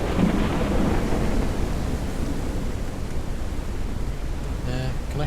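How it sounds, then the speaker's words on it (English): A thunderstorm in the video game Forever Skies gives a heavy rumble of thunder that fades into a steady rain-like hiss, close and continuous, with a brief chirpy game sound near the end. "Since there's a bit of a storm going on."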